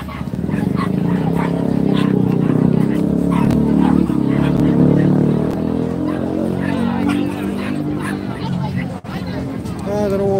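Dogs bark and yip amid a busy crowd at the 2024 Weymouth fireworks event, close and fairly loud over steady background chatter and voices.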